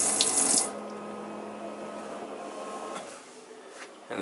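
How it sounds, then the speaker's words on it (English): The water pump of an Adria 552PK camper van hums steadily while a tap runs, opening with a brief gush of flowing water and then settling into a continuous close, moderately loud motor drone before cutting off near the end. "when I turn the water on, you can hear the pump running"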